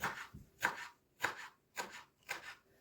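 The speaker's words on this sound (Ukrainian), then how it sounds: "Спочатку міленько нарізаємо зелену цибулю і кріп." Knife finely chopping green onion and dill on a cutting board, five evenly spaced crisp chops, close and fairly quiet with no talk.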